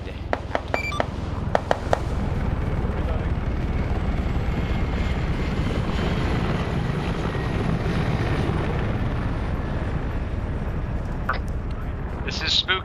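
Helicopters, one of them an Mi-8 with civilian markings, drone steadily in a video game, and voices talk over the engine noise while short beeps sound near the start and end.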